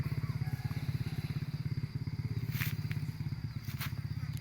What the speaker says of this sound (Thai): เสียงรถเพื่อนเพื่อนก็ไปกรีดยางนะครับ